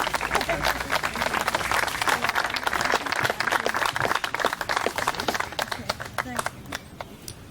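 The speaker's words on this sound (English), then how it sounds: "Please stand and applaud." Audience applause at a tennis court dedication ceremony, a dense stretch of clapping that thins into scattered claps near the end.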